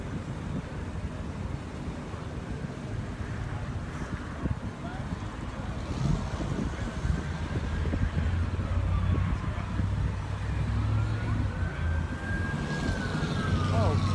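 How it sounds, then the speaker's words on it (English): Out on West Florissant Avenue in Ferguson at night, an ambulance siren wails faintly in slow rising and falling sweeps, half buried under heavy wind rumble and street noise. "Oh, an ambulance."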